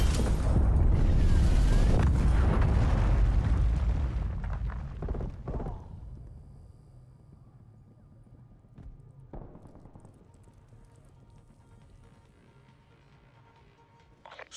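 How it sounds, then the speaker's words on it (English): A loud missile blast in Call of Duty Black Ops Cold War team deathmatch booms and rumbles for several seconds, then fades to a quieter background with a smaller impact later on. "Missile inbound."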